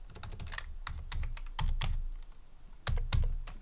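Keys clatter on a computer keyboard in quick irregular bursts with brief pauses, close and moderately loud.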